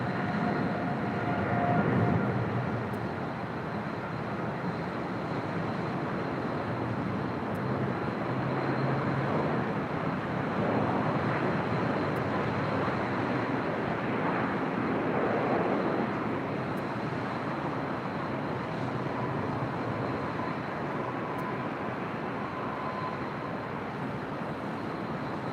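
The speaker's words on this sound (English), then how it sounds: "Taking off there on the south side was Polar Air Cargo, Flight 235 in that Southern Air title" A Polar Air Cargo Boeing 777 in Southern Air titles taking off from the south side of LAX, a broad, steady jet roar heard from a distance throughout.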